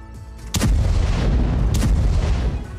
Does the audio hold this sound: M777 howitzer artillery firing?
yes